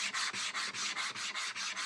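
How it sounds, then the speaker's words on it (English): Rhythmic sandpaper strokes rubbing back and forth over a painted surface, about eight even passes, close and steady with no talking. "the sanding is just going to smooth it out and take the top layer off."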